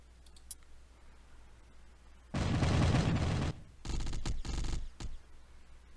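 Regular cannons fire in the space game Into the Void, a loud roaring burst of about a second followed by a second, choppier burst, with quiet clicks before and after and no talking.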